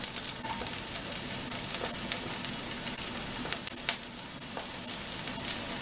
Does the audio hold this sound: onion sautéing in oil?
yes